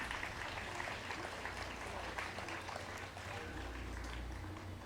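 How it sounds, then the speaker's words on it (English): Audience applause at the closing of a school STEAM fair: a steady, dense wash of clapping that holds at an even level for the whole stretch, with no clear voices on top. "So you should give yourselves also a round of applause."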